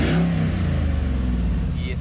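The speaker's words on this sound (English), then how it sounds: "Go ahead and give it a rev for you." A Grand Marquis with a 4.6 engine and a muffler delete revs loudly up close, a deep throaty rumble swelling and then settling with a pulsing exhaust note.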